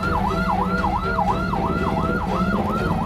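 Ambulance siren wailing in a steady, fast up-and-down rhythm, loud and near, carrying a patient through a traffic jam, with road and engine noise underneath and no talk.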